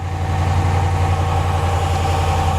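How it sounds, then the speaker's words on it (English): A remote-started vehicle engine runs at a steady idle, a continuous low hum with faint vibration and no talking. "And the vehicle is starting up."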